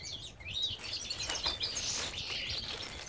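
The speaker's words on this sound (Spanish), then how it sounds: "mira que cante llevan los gorriones" House sparrows chirping outdoors, a busy, continuous twittering chorus at moderate loudness over faint background noise, with no voice.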